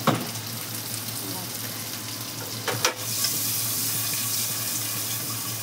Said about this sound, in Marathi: फ्राय करून 2-3 मिनिटं होईपर्यंत असे ठेवूया आपण, फ्राय होईपर्यंत